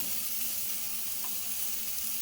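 Cashews, coconut and other ingredients for a black chickpea curry fry in a pan with a soft, continuous sizzle and faint crackle, steady and fairly quiet, with no voices.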